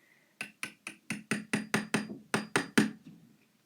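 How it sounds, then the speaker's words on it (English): Hammering a pin into the hinge of a trick Zippo lighter: eleven sharp, evenly spaced metallic taps in a steady rhythm, close and crisp, each ringing briefly before the next strike, with no talking. "take your pin or whatever you use to hammer it in so you don't bend it"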